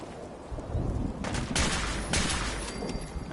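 A few sharp gunshots from a gun in the video game Fallout 4, two or three loud cracks fired close together over a low rumbling background.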